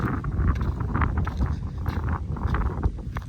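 Wind buffets a microphone in an open field during cultivation with an MTZ 892 tractor and KPS-4.2 cultivator, a loud, steady low rumble that fills the whole moment.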